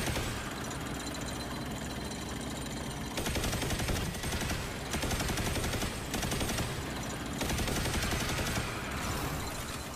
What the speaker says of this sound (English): So let me just waste all my ammo so I can show you guys how this thing works.